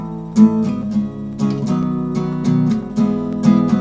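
Continuous acoustic guitar strumming through pop pre-chorus chords, a steady unbroken wash of close, bright strums with small accents on the downbeats and no talking.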